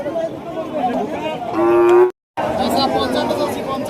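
A cow lets out a single loud, drawn-out moo close by at Choubaria cattle market, amid the steady chatter of a busy crowd.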